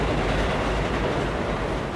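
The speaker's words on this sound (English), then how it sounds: "It's several blocks of businesses selling food and drink so you can watch a train roll by." A train rolls along Train Street in Hanoi's Old Quarter at night, where the track runs between blocks of food and drink businesses. A steady, loud, broadband rumble with rail clatter continues throughout, close by and with no voices.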